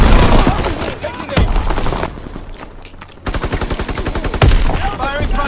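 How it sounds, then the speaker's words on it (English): Heavy primary battery guns fire in Call of Duty WW2, booming blasts and rapid hammering bursts, loud and close, with a short quieter gap in the middle before the pounding resumes. "Firing primary battery."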